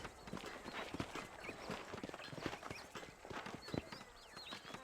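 Horse hooves clip-clopping in the video game Red Dead Redemption, a brisk, continuous rhythm of hollow hoof strikes from several horses moving together, with no voices.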